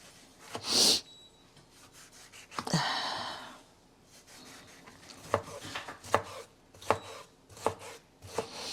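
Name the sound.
chopping onion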